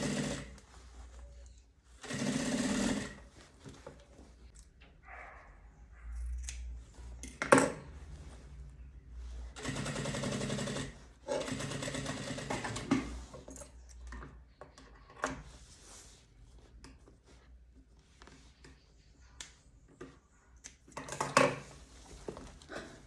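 A sewing machine stitches bias binding around the edge of a handmade bag in repeated bursts of rapid clatter of varying length, with quiet handling noises and pauses between runs.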